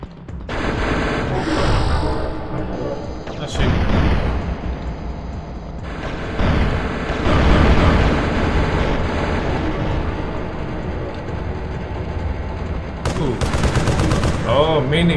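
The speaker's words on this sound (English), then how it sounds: "some kind of machine gun" A machine gun firing in the PC game Turok Dinosaur Hunter, running as loud, sustained bursts of rapid shots with booming impacts, close and nearly continuous with short pauses.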